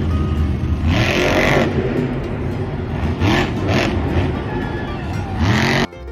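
A toy monster truck goes through a stretch of noisy handling, with rising whirring and rumbling bursts of motor-like sound and scraping, close and fairly loud, ending in a sudden drop.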